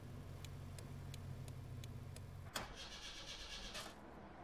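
A car engine in Persona 5 catches on the first try: a steady ticking and low hum, then a sharp crank burst and a rough, revving idle, faint and unaccompanied by voices.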